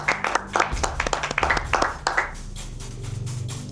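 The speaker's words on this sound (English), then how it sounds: "Let's give him a round of applause." Applause for the winner of a squad-making challenge at a grand final event, a short burst of hand claps that thins out into scattered taps near the end.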